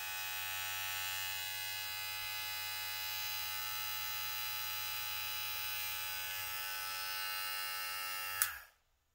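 Limural electric hair clippers running with a steady, close, loud buzzing hum that holds evenly for about eight seconds before switching off abruptly.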